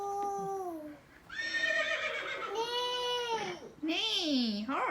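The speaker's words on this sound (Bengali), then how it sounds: "নেই, হর্স" A horse neighs close and loud in a child's play setting: several rising and falling whinnies one after another, with a short pause after the first.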